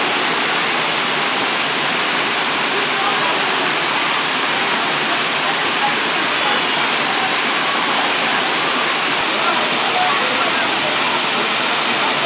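The Deep Creek waterfall gives off a loud, steady rushing roar of falling water that fills the whole span without a break.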